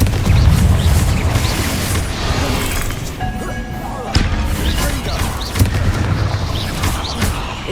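Explosive combat spells from Hogwarts Legacy on PS5, including the Confringo blast, land as loud, dense booms and crashing thuds that repeat through a constant battle din.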